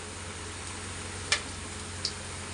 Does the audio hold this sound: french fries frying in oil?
yes